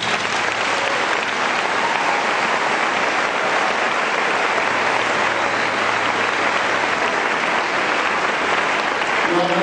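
A church congregation applauding steadily and loudly for the whole stretch, a dense continuous wash of many hands clapping with no break, and faint voices faintly beneath.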